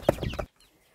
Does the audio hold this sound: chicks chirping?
yes